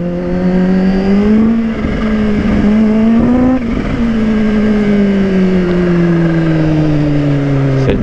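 A supercharged Kawasaki Ninja H2 motorcycle revs hard up close, its loud engine note climbing in pitch through repeated throttle blips before easing into a long falling tone, with a supercharger whine layered over the roar.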